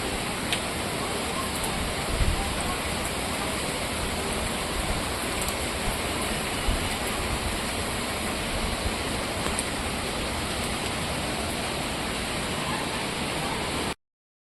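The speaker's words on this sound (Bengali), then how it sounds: "কি জোর বৃষ্টি হচ্ছে বাবা" Heavy daytime rain pouring steadily outside, a dense continuous hiss of falling water with no let-up, moderately loud and close, cutting off abruptly at the end.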